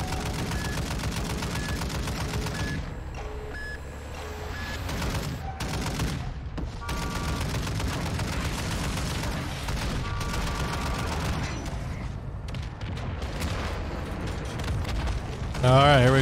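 Dense rumbling explosions and rapid gunfire fill a Modern Warfare 2 match as missiles drop, a sustained loud barrage with game music and effects layered on top.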